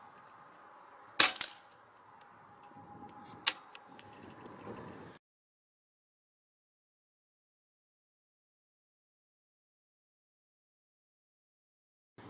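A Hatsan Bullmaster .25 PCP air pistol firing outdoors, two sharp, loud close cracks a couple of seconds apart over faint background noise, followed by silence.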